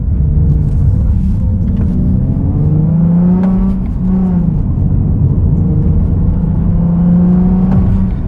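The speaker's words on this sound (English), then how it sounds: "You have to really like the sound of an exhaust to appreciate this car." A 2017 Nissan 370Z with a 3.7 liter V6 accelerates hard on the road, engine and exhaust droning loud and close with rising and falling pitch through the gears, alone without talk.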